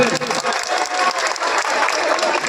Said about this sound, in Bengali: সকলে আবার হাততালি দিয়ে সম্বর্ধনা দেবেন।